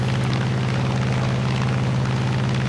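Propeller engine of an F4U-1a Corsair in War Thunder arcade air combat, a steady loud droning hum with strong low harmonics, continuous and unbroken throughout.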